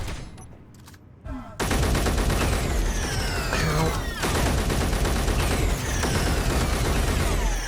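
Rapid automatic turret gunfire rattles continuously in a video game, loud and dense after a brief quieter opening with a short exclamation, with sweeping whooshing effects layered over the sustained barrage.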